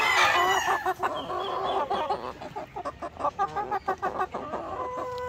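Laying hens and roosters on a chicken farm cluck and call in a dense, overlapping chorus, close and loud, with rhythmic bursts of clucking toward the end.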